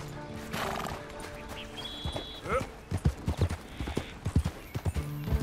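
A horse in Red Dead Redemption 2 gives a neigh, then its hooves clip-clop in a steady galloping rhythm, close and clear, with faint background game sound and no speech.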